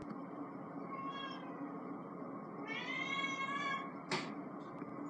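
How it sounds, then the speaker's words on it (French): A pet cat meows indoors, with a faint cry, then a longer, stronger meow and a brief sharp call, all set against a steady low background hum. "Mon chat qui miaule."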